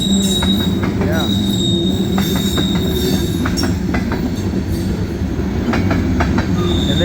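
A CSX freight train rolling through Sykesville, its wheels clicking steadily over a rail plate with loud continuous rumble and occasional squeal.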